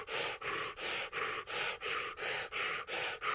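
Breath of fire yogic breathing: rapid, forceful rhythmic exhalations, about nine even bursts in three seconds, close and steady with brief gaps between each breath.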